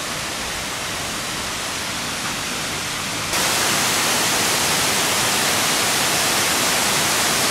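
Tat Sae waterfall near Luang Prabang, Laos, roars as a loud, unbroken rush of falling water, with no voices over it and a sudden jump in loudness partway through.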